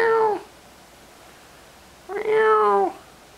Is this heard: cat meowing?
yes